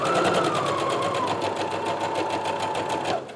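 Sewing machine running a steady straight stitch while sewing fabric scraps into a garment, a continuous close, loud whirring buzz with rapid regular needle pulses that slows slightly near the end.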